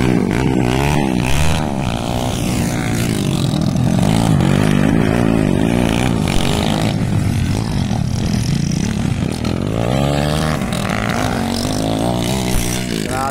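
Two-valve underbone motorcycles race at a Batangan event in Valencia City, their high-pitched engines buzzing and revving continuously and loudly throughout, the tone rising and falling as the bikes accelerate and pass.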